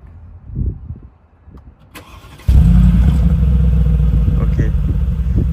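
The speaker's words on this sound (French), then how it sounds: "T'allumes la voiture, faut appuyer sur le frein en même temps." A car engine cranks and fires at about two and a half seconds, then holds a loud, steady idle with a raised rev. Quiet voices and movement come first.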